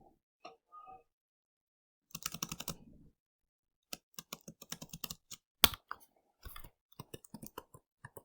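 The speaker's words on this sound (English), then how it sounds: "because I was concentrating on typing, I forgot to talk" Fingers type on a computer keyboard, with bursts of rapid clicking keystrokes separated by pauses and one sharper key strike, close up with no talk.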